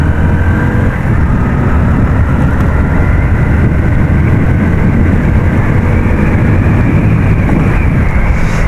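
A motorcycle rides at high speed, its engine droning steadily and loudly under heavy wind rush on the microphone, continuous with no talking.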